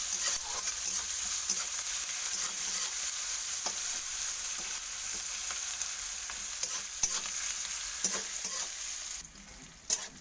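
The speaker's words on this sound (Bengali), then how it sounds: "আমি একটু পেঁয়াজটা ভাজা করে নেবো ভালো করে" Onions frying steadily in hot oil for a fish and hinchar broth, a dense continuous sizzle with occasional stirring clicks, close and alone, briefly dropping near the end.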